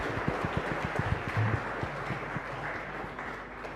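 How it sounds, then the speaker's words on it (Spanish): A church congregation claps together at the end of a Catholic Mass in a chapel, a short round of irregular, moderately loud handclaps that quickly thins out. "Y un fuerte aplauso para todos nosotros."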